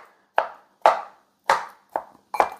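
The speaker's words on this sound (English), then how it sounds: "I guess I'm really just kind of chopping them." Soft bananas chopped on a cutting board with a knife: five distinct, fairly loud thuds spaced about half a second apart, each a short knock with a brief damp tail, no talking.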